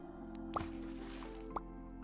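Soft wet squishes and a pair of light drips as flour is mixed with water into dough in the cozy farming game Happy Sheepies, two brief squelches over a steady low background hum.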